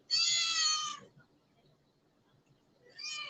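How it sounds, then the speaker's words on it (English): A cat meows twice in a quiet indoor setting, with a loud, drawn-out first meow, a pause of near silence, then a shorter second meow, with no talking. "I'll chuck the cat out."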